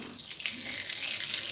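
Boiled, spice-coated potatoes fry in hot mustard oil with a dense, steady hiss and sizzle. The sound is close and continuous, with no talk over it.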